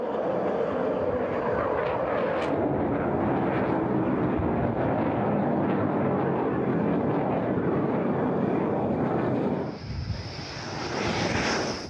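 A loud Rafale jet fighter roars steadily overhead while performing aerobatics above an aircraft carrier, a sustained powerful rush that shifts to a thinner whine near the end, with wind buffeting the microphone.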